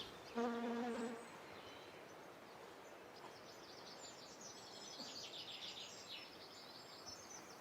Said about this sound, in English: You plant a geum, and literally within a minute, there are bees.